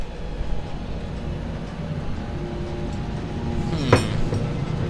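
A train in the video game Dead Space 2 rumbles in a low, continuous drone, with a sharp metallic clink cutting through near the end.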